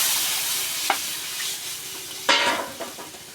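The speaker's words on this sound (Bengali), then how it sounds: "আমি এখন এখানে জল দিয়ে দিচ্ছি" Water poured into a pan of taro curry with turmeric and salt, a loud continuous hiss and sizzle with a sudden burst of steam and crackle near the end, close up and without speech.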